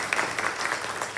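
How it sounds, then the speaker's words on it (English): An audience applauds a church ministry group in a brief burst of dense, even clapping that is heard on its own. "Everyone give a round of applause to Our Lady of Sorrows for the ministry"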